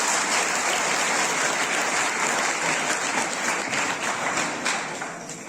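A school farewell gathering for class 12 students bursts into dense, sustained applause from a large audience, loud and continuous throughout before easing slightly at the end.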